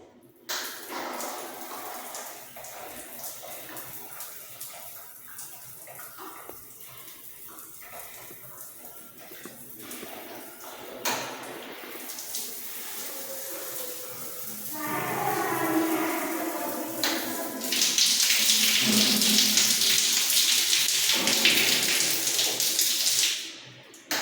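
Hand shower spraying water at a plumbing installation site, a broad hiss of running water that grows louder and brighter toward the end, with clattering handling noises along the way.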